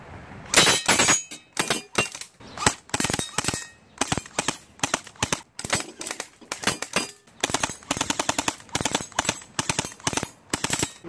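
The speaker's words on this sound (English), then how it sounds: "we got the Sig 552" Sig 552 airsoft rifle firing in sharp, rapid bursts and single shots, close and loud, with brief pauses between strings of rounds and no talking.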